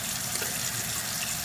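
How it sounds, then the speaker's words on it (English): Hot water runs steadily from a tap into a sink, a constant close rushing hiss with no break throughout. "let me get my hot water running"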